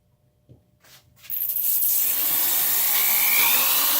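A hand-held drill bit bores a hole in a Suzuki part, starting after brief handling clicks and then running as a loud, steady, close whine with grinding texture.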